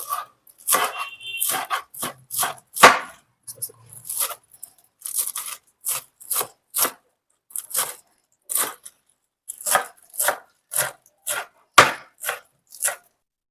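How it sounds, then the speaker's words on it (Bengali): Spinach is chopped on a wooden board: sharp, close knife strikes in quick irregular runs, with brief pauses between bursts. "এবার পালং শাকটাকেও আমি কেটে নেব"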